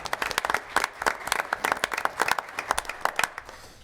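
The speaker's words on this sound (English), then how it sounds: "If we give her another round of applause" Applause for a teacher at a school board meeting: a modest group of hands clapping in a quick, uneven patter of sharp claps, fairly close, tapering off toward the end.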